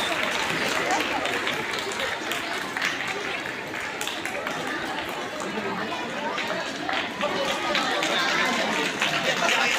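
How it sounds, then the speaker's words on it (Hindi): Audience applause at a school Republic Day celebration at Navjeevan English School, a dense continuous wash of many hands clapping, loud and steady throughout with crowd chatter mixed in. "तालियां बजाते हैं।"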